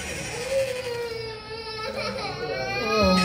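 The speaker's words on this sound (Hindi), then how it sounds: "अभी हम लोग पहुँच चुके हैं और रोने की आवाज़ आ रही" A young child cries and whimpers in a sustained, wavering wail at moderate distance, the sobbing rising and falling through the clip with some background noise underneath.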